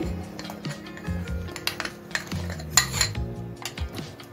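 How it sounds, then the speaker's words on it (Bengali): A spoon stirs milk mixed with baking powder and baking soda in a bowl, ringing out repeated close metallic clinks and scrapes in an irregular rhythm, with no voices. "এখন একটা চামচের সাহায্যে মিশিয়ে দিচ্ছি ভালো করে"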